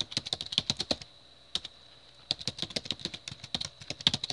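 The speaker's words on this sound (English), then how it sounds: "just type in your email address like so" Quick bursts of keystrokes on a computer keyboard, close and crisp, with a short pause partway through and then more rapid typing.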